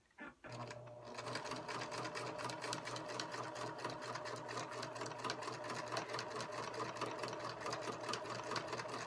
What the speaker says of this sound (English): And I'm trying to stitch it as straight as possible.